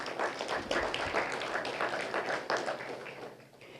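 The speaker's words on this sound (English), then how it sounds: "So let's give them one more round of applause." An audience at a city's State of the Address claps steadily, a broad dense wash of applause from a large room that holds for several seconds before tapering off.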